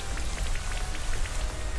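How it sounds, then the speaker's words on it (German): Rain Dance move from the Pokémon Sword and Shield video game: a steady, fairly loud wash of rainfall pattering on a surface, with scattered droplet ticks throughout and no voices. "Das mit dem Regentanz."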